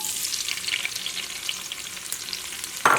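Onions sizzle in hot coconut oil with a steady crackling hiss, then a sudden louder burst of frying near the end.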